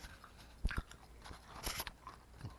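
Crunchy chewing of dried banana chips close to the mic, a few sharp bites followed by crisp crunching and scraping, fairly quiet with no talking.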